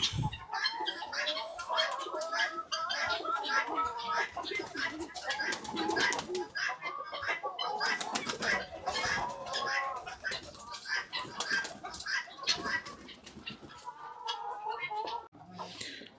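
Pigeons coo and murmur close by as they feed on wheat, with rustling and light wing flaps, a busy steady flock sound with a chicken clucking now and then.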